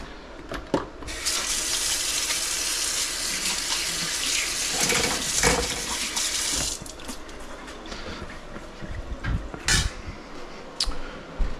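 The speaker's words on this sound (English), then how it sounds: "let me rinse my hand real quick" A kitchen tap runs while a hand is rinsed on a cooking show: a steady, fairly close rush of water with brief splashes and shifts as the hand moves through the stream, heard alone.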